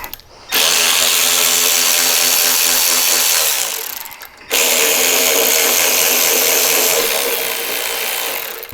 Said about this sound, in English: So what we're gonna do is just go ahead and release these two bolts.